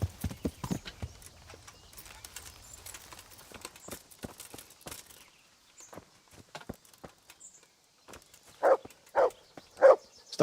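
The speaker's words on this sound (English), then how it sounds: "Stop barking." Dog barking in the video game Henry's Adventure, a few loud separate barks near the end after quieter clip-clop footsteps.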